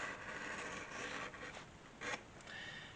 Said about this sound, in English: I think I'll cut it down even with the edge that I just cut.